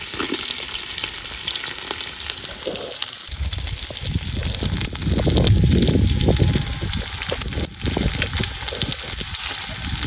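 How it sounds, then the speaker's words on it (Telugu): Onions frying in oil in a village kitchen, a loud, steady sizzle that surges sharply when they hit the hot oil and keeps crackling densely close by, with no talking. "మంచి నూనె, ఉల్లిగడ్డలు వేసినాం ఫ్రెండ్స్"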